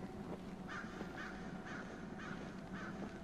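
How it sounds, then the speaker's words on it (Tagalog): Crows caw repeatedly in the horror video game Don't Scream, a regular series of hoarse calls spaced about half a second apart over a steady ambient background, with no talk. "Yan na yung mga ibon."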